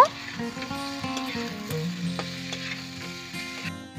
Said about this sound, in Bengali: ফুলকপি লালচে করে ভেজে নিচ্ছি।